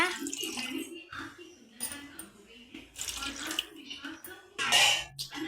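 Water pours and splashes into a cooking pan of semolina for kesari, in uneven bursts, quiet at first then swelling into a louder gush near the end.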